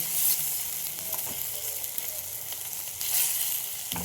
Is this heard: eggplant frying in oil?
yes